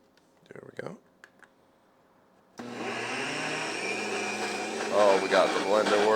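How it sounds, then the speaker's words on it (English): A blender whirs loudly and steadily as it mixes the ingredients for a five-ingredient high-protein queso, starting suddenly after a few soft clicks and brief voices, with the motor pitch wavering near the end. "Oh, we got the blender working."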